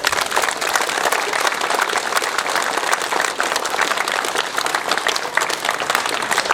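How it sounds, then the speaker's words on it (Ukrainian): Dense, continuous applause from a crowd at a football cup awards ceremony, honouring finalists and winners, loud and unbroken across the whole stretch. "Я хочу, щоб ми зараз знову не жаліли оплесків для фіналістів, для переможців."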